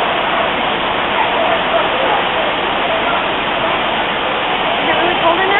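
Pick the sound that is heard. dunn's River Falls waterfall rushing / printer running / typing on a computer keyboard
dunn's River Falls waterfall rushing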